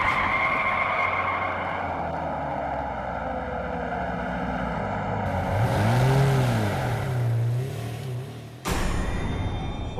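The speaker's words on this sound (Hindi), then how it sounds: "पापा की गाड़ी।" A father's car pulls up at a house in an Indian TV drama, its engine swelling loud and close, then tyres skid to a stop with an abrupt cut. No one speaks.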